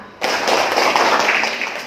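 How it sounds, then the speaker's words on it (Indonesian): A classroom of students applauds for a classmate, a sudden burst of dense clapping that starts sharply and carries steadily for nearly two seconds, close and fairly loud. "Tepuk tangan untuk Okta."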